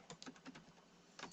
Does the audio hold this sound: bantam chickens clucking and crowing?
no